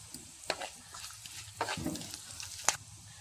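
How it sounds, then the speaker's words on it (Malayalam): A sprig of curry leaves fries in hot coconut oil with mustard seeds, shallots and dried red chili, a soft low sizzle broken by a few sharp crackles and spoon strokes, close and fairly quiet, no voices. "ഒരു കൊത്ത് കറിവേപ്പില കൂടി ചേർത്ത് കൊടുക്കാം."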